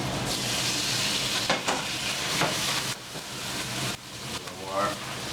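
Fresh pasta sizzles loudly in a hot pan as water is added, a steady close-up crackle with bursts of sputtering and hissing steam.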